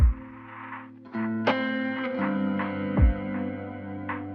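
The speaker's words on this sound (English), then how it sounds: "that's just one reverb." A sustained synth pad with layered harmonic tones, swelling with new chords every second or so and trailing into a long, washy reverb tail.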